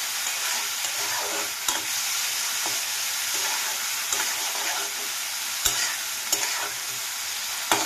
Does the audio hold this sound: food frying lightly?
yes